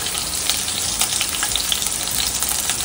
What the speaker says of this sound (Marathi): तर हे आपण जरा छान परतून घेऊया